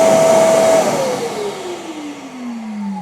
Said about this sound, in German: der Staubsauger ist direkt mit angegangen